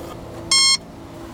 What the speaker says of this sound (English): Second beep, go to full.